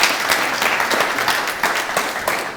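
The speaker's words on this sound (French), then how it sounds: "Applaudissements pour Monsieur Salif." Audience applause breaks out for Salif Nikieman, coordinator of the association Afrique contre le tabac, at the Grand Café; dense, steady clapping from a crowd fills the room without a pause.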